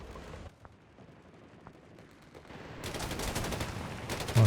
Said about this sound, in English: I heard a Nebelwerfer coming in.